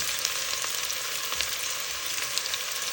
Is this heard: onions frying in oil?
yes